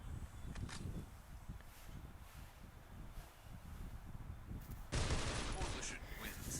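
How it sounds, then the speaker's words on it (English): Rapid gunfire exchanges in a clan-wars grand final video game match, dense crackling volleys that continue throughout and grow louder near the end, with a voice talking under them. "A little bit of exchange of shots coming in."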